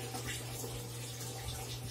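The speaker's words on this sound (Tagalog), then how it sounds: "Punuin lang natin tubig sa timba." Tap water runs steadily into a plastic bucket in a home bathroom, filling it for a dog's bath: a continuous, even rushing splash at moderate level, unbroken for the whole stretch, with no talking.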